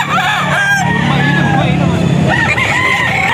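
A rooster crows loudly and close by in a home yard where chickens are kept, its long drawn-out call running through most of the moment while someone talks over it.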